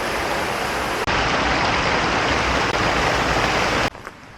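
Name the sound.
stream and small waterfall on hiking trail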